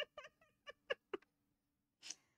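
A house cat gives a short run of soft meows, about six quick calls close by, then a brief pause and one final higher, sharper meow, with no talk over it.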